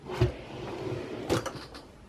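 A makeup drawer slides open with a soft thud near the start and a second knock about a second later, quiet and close, with no talking.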